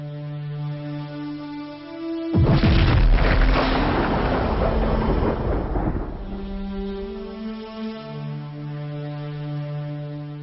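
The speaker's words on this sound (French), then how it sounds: "l'étoile ne peut plus le supporter et finit par exploser en ce qu'on appelle une nova ou une" A supernova explosion sound effect bursts in as a deep, booming blast over a sustained musical drone, swelling loud and rumbling for several seconds before fading back under the lingering tones.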